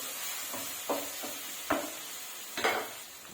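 Food fries quietly in oil in a pan, a soft steady sizzle with a few sharp scrapes and knocks of a spoon stirring, close and unaccompanied by talk.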